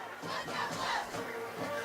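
High school homecoming football crowd roars in the stands, a swelling wash of cheering and shouting that rises and falls over a couple of seconds, full and somewhat distant.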